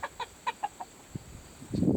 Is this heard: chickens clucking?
yes